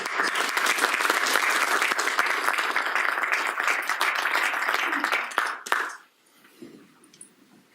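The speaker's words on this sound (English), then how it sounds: "Let's give them a round of applause." Audience applause fills the hall at the OPENChicago welcome address, a dense, steady wash of many hands that thins and stops near the six-second mark, leaving a quiet room with a few faint sounds.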